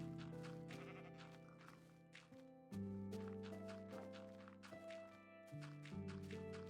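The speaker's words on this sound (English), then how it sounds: "I'll punch the sheep away." Minecraft sheep bleat several times in a row, loud and close, over the soft tapping and thuds of in-game footsteps and block placing.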